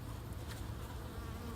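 Honey bees buzz steadily over a hive frame holding nectar, pollen and brood, a continuous close, even drone with no voices.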